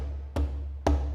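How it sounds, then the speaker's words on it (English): Two hand-drum strikes with the drum tilted up off the ground: full, resonant thumps about half a second apart, close and fairly loud over a low steady hum. "a drum that's tilted sounds like this"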